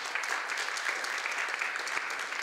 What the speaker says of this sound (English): I would like to hear a really warm applause for Paula from Fashion Project